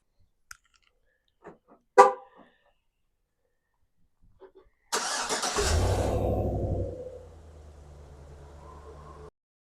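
A 2015–2019 Chevrolet Silverado pickup starts up: a few sharp clicks, then a loud engine crank that catches and settles into a lower, steady idle up close.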